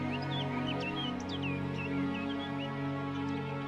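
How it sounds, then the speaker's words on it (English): Two birds trading short chirping calls, faint and high, repeated in an irregular back-and-forth over a steady low background hum, with no talking. "You hear those two birds?"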